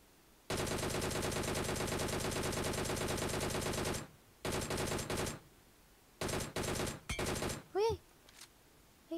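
Sustained automatic gunfire in a video game, a long loud machine-gun stream lasting several seconds, then shorter bursts separated by brief gaps, with a quick whooshing effect near the end.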